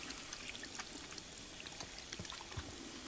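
Water pouring and trickling as characters wash up in the video game Life is Strange 2, a steady, fairly faint splashing stream with small drips, heard alone.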